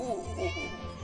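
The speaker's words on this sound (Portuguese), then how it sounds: "O miado dele tá muito alto pra cá" A cat meows in a video game with a drawn-out, wavering cry, mixed with a low hum and other voice-like sounds.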